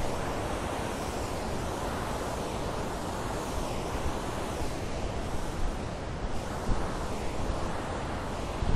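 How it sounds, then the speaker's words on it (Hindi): A river rushes through the valley at Naran, a dense, continuous roar of water that is steady and fairly loud with no voices over it. "पानी की आवाज़ इतनी ज़्यादा आ रही थी, दिन को भी आती है, बड़ी दूर तक जाती है आवाज़।"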